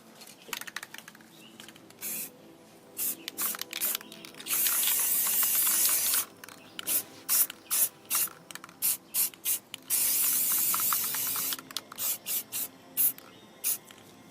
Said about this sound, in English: We're just spraying.